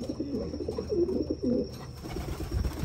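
Pigeons cooing in soft, low repeated phrases nearby, a few distinct coos over a steady background hum with no voices.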